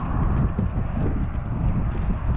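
A person imitates horse hooves clip-clopping beside real horses, a steady close rhythmic knocking over a low rumble of wind and outdoor noise.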